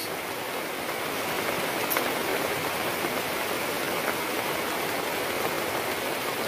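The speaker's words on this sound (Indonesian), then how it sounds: "Mudah-mudahan cuma sebentar bos hujannya bos." Rain falls on a forest during a hunting outing, a dense, steady hiss with no let-up and no voices.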